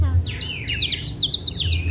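A toy water bird whistle imitating a sparrow gives repeated quick high chirps and trills over a low background rumble, moderately close.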